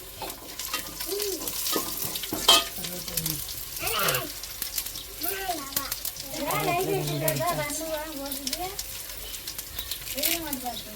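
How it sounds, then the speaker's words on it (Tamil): Fenugreek seeds sizzling in oil as tempering for a fish curry, a continuous frying crackle and stirring under a person talking throughout. "வெந்தயம் சேர்த்துக்கிடுவோம் தாளிப்புக்கு"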